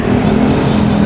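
Road traffic on a Philippine street in Pasig, with a steady close engine drone and the rumble of vehicles passing, continuous and fairly loud.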